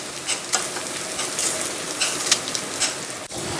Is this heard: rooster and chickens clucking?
no